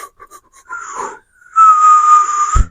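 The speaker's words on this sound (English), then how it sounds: "You can whistle inward." A person whistles by drawing breath inward, first in a few short breathy peeps, then in a longer airy tone that holds steady before a sudden thump at the end, close and fairly loud.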